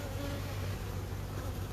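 Honey bees buzz steadily at an open hive, a dense, continuous drone of many wings close by with no pauses.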